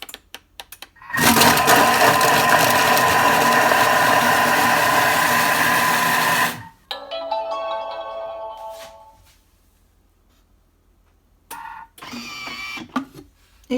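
Thermomix TM5 chopping three peeled, cut onions at speed 5, a loud steady whirring motor roar lasting about five seconds, followed by softer scraping and rattling sounds.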